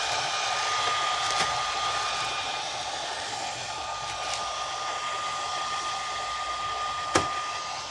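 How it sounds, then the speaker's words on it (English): A hair dryer blows steadily with a constant whooshing whine, close by, with a couple of faint clicks and a brief bump near the end. "Can I have access to the hairdryer?"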